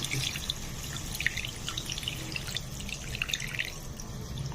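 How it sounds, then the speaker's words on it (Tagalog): Water splashes and drips into a cooking pot while chicken kinamatisan is prepared, a soft, steady trickle with scattered droplets, close by and fairly quiet. "So lalagyan ko na ng tubig."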